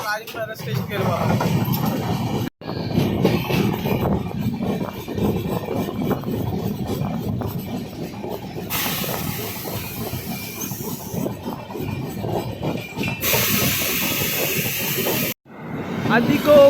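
Tirumala Express rolls steadily on the outer approach to Rajahmundry station, a continuous rumble with hiss and brief gaps, heard from onboard.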